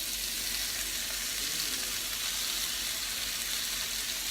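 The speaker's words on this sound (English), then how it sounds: "We're just going to put this in, saute all the meat, and then we'll drain it." Cubed meat for tacos al carbon sautés in a pan with a steady, loud, close sizzle that hisses without a break and has no talk over it.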